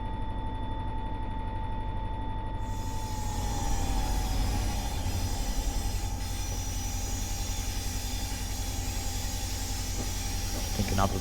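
A train braking down the steep Saluda Grade in a train simulator game: a continuous loud rumble and hiss of rolling wagons with a steady brake whine throughout, ending in a brief squeal, with no talking.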